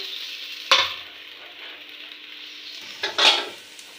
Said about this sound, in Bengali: এবারে জল দিয়ে দেবো এই জলটা মেখে নেবো